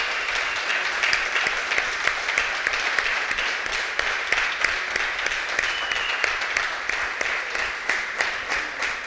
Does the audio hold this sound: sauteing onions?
no